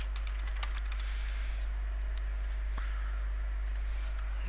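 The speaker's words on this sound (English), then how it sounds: "type a password here." Keys click in quick, uneven bursts as a password is typed on a computer keyboard, close up over a constant low electrical hum.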